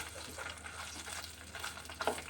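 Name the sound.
boiled chicken frying in oil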